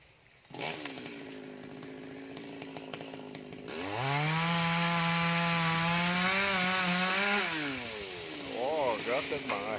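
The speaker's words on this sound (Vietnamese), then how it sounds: "Giờ chú đứng ở trên đó giật máy cưa nghe các bạn." A chainsaw sputters, then roars to life and snarls through the heavy branches of a huge dáng hương tree, its engine pitch rising and holding steady under load before easing off and revving again, loud and close, with a voice talking faintly nearby.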